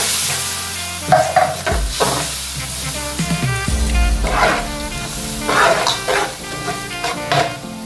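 Tomatoes frying in a lamb karahi, a loud sizzle with hiss and steam bursts, broken by stirring scrapes and clatter against the pan.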